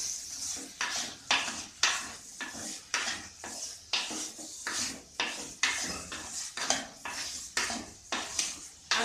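A spoon scraping and stirring turmeric powder into village-style country chicken gravy in a pan, steady rhythmic metallic scrapes over a light sizzle, close up with no voices.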